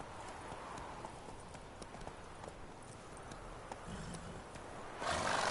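Hooves of the horse Roach beat a steady clip-clop gallop in The Witcher 3, with continuous movement noise and a louder rush of sound near the end.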